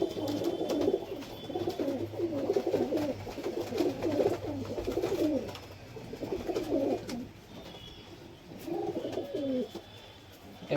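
Madras pigeons at a market sale cooing in repeated low throaty phrases, several bouts close by with short pauses between them and faint background noise.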